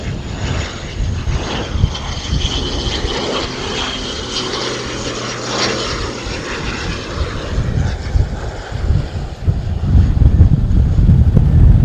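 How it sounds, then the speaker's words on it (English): An ATR turboprop airliner running its propellers at higher revs, a steady broadband roar with a tonal hum, heard outdoors at an airport with heavy wind buffeting the microphone and no talk. "that ATR definitely had a few more revs on. You can hear it quite a bit higher pitch in the propeller"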